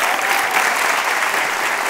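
Studio audience applause on a live talk show, a steady, loud wash of clapping that holds evenly throughout with no voices over it.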